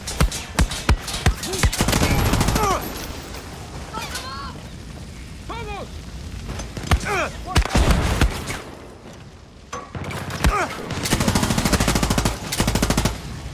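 Rapid machine-gun bursts and scattered gunshots in the shooter game Far Cry 6, loud and repeated in sharp volleys with brief lulls, while someone talks between and over the firing.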